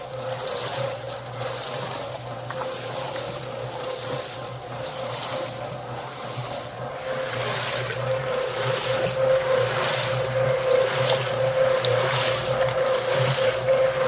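A concrete mixer drum turns a very watery two-bag batch of concrete, giving a steady mechanical drone with continuous sloshing and trickling liquid that grows slightly louder toward the end, with no voices.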